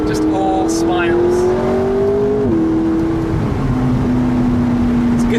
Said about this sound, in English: enjoying the new car, the new noises the 650S makes